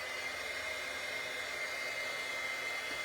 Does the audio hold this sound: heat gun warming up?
yes